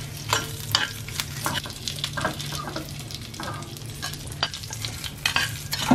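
Cashews, dried chillies, chana dal, urad dal, black pepper and curry leaves sizzle and crackle steadily in hot tempering oil, with a continuous frying hiss, intermittent sharp pops, stirring scrapes and a low steady hum beneath.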